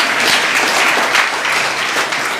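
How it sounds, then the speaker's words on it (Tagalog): A church congregation claps loudly and steadily, dense applause filling the room with no break. "Malakas sa palakpak para kay Lord."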